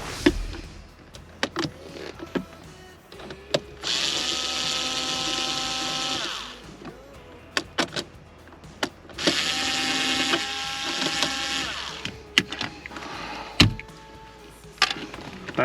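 A power screwdriver backs screws out of the centerpiece of a Mercedes SL interior, with two long whirring runs close by, separated by clicks, knocks and handling of trim parts.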